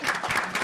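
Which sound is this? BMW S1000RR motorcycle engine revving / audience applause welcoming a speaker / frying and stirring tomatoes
audience applause welcoming a speaker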